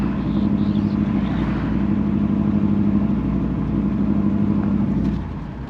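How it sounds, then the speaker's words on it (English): A car engine pulls steadily in fourth gear, a loud, continuous mid-low drone with a sustained tone that holds for about five seconds before easing off slightly at the end. "There's fourth gear."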